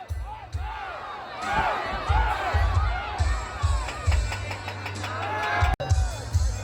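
A large crowd cheers and shouts continuously, close and loud, with whoops and rising roars over a steady low rumble, and a sharp slam or bang near the end.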